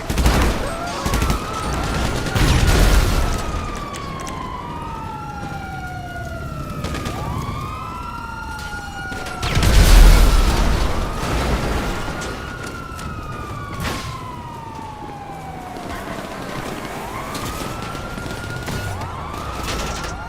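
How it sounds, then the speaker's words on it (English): Rocket launcher explosions in GTA 5 Online come as heavy booming blasts, two especially loud ones, while police sirens wail and sweep up and down almost continuously in the background. "Rocket launcher."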